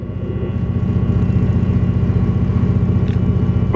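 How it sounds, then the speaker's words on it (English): Atlas rocket engines at full thrust at liftoff for the Landsat 9 launch, a loud, steady, dense rumbling roar that continues without a break, with no voices over it. "Engines at full thrust."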